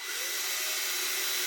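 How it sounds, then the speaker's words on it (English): A power drill boring into a hardwood timber frame for a wagon-wheel engine stand, one steady high whirring grind that holds close and even for the full moment with no talk. "Get your drill."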